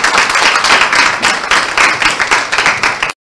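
A group applauds the midwives of Diakonessenhuis hospital during Nurses Week, with loud dense clapping close by, swelling in a few waves before stopping sharply.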